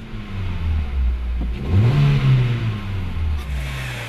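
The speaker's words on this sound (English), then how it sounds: "we tested the i10 with the more powerful of the two gasoline engines" A Hyundai i10 facelift with the more powerful of its two gasoline engines accelerates, the engine note rising and revving up clearly and close, then holding a higher pitch before easing off, with no voices.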